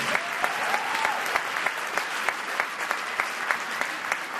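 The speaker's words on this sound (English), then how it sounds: "let's give them a big round of applause" A crowd at an education forum applauds, many hands clapping in a thick, continuous roar, with a few sharper individual claps popping out near the front, loud and sustained without speech.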